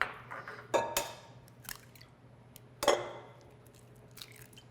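Three large eggs are cracked into a bowl, giving a few sharp, close taps and cracks separated by quiet pauses, with faint wet drips after each.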